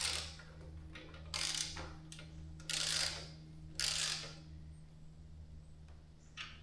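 A ratchet tightens bolts on the verticals of an Antifir 60-inch adjustable rolling wood-top workbench, giving several short bursts of ratcheting clicks separated by pauses. It is fairly quiet, over a low steady hum.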